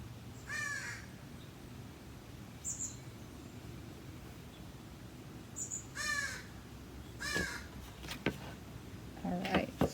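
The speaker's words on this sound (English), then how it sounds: "And some crows have now joined me" Several crows caw outdoors in short bursts of two or three harsh calls, moderately close, over a quiet background hum.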